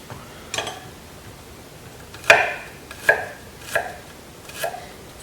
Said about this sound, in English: So what I'm going to do is I'm going to slice the garlic